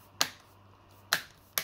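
A laptop RAM module snaps into its slot clips in an HP Omen 15 gaming laptop, giving three sharp, close clicks spread apart, the last two nearer together, over a quiet background.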